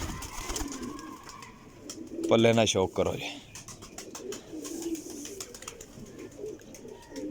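A Sialkoti quail-type pigeon gives a short burst of close, throaty cooing, a few rolling pulses lasting about a second, while someone talks quietly around it.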